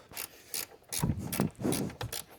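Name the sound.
ratchet turning a very long bolt on Mustang intake install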